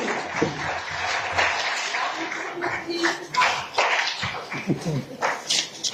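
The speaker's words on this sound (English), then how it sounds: "Give him a round of applause." Audience applause at the African Children Climate Summit in Addis Ababa, a dense wash of clapping that stays steady for the whole stretch, with voices talking and calling out over it.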